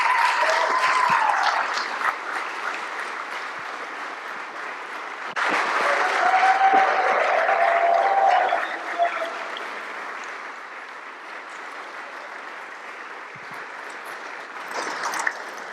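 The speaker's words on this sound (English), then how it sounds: "Let's have a huge round of applause." An audience at an Australian Embassy event claps as guests are called up on stage, with sustained applause that swells around the middle, thins out, then rises again briefly. Some voices carry faintly underneath.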